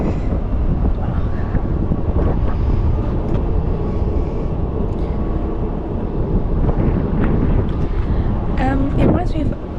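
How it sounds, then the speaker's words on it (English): Strong wind buffets the deck of a fast ship as a steady, loud, broadband roar that lasts throughout, with a person talking over it. "I've just had to like glue my hair down because the wind is so bad"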